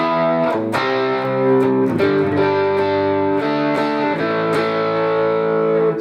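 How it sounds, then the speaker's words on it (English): Electric guitar played through an overdrive pedal similar to a Tube Screamer into a tube amp, giving light, slightly driven distortion as a series of sustained, ringing chords struck in turn, loud and alone. "I've added in an overdrive pedal in front of the amp, and this is like equivalent of like a tube screamer pedal"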